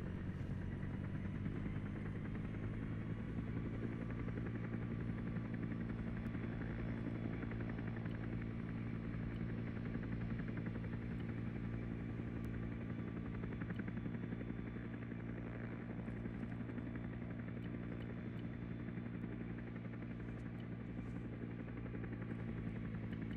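A steady, droning helicopter rotor hum with a low buzzing engine tone runs continuously and evenly throughout, with no voices, in the video game ARMA 3.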